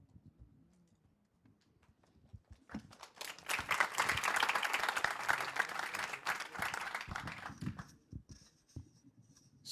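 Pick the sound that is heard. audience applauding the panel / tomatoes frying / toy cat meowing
audience applauding the panel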